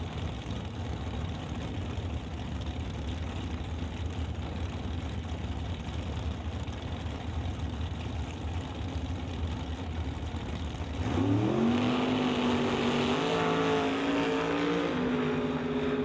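Drag racing cars, among them a gray-on-silver Oldsmobile Cutlass, at the starting line: a steady engine rumble with crowd-like background, then an abrupt loud revving launch with rising engine tones near the end.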